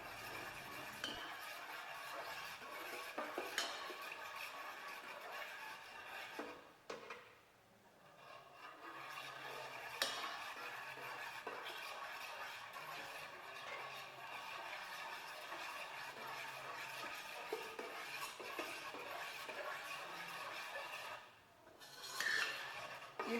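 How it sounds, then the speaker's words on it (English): Gelatin mixture for bioplastic stirred in a pot over medium heat, giving a steady scraping, rubbing rasp of utensil against the pot that runs almost unbroken, with two brief pauses. "Cook over medium heat and stir until the gelatin is dissolved."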